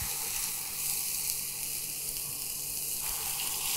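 Water added to a hot pan of spices, cumin, chili and Kashmiri chili powder, sizzling steadily and loudly up close, a continuous hiss with a slight drop near the end.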